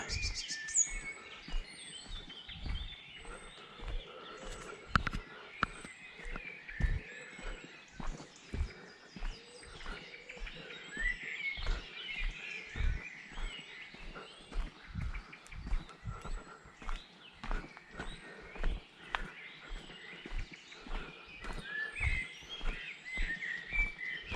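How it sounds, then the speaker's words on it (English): Birds chirp and sing in Holyford Woods near Seaton, Devon, with soft scattered calls over quiet woodland ambience and irregular footsteps crunching along the path. "Oh, these birds are beautiful."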